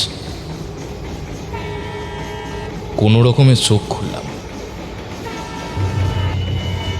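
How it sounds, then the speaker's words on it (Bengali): A train approaches on the rails with a rumbling, rattling roll and a loud horn blast in the middle, while someone narrates over it throughout. "অন্ধকারে দূর থেকে ট্রেন আসার শব্দ শুনতে পেলাম।"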